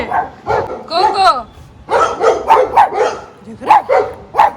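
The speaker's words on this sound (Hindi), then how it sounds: "देखो कैसे भौंक रहा है वो।" Two female Shih Tzus fighting at home, snapping out rapid, close barks and yips in bursts while a person talks over them.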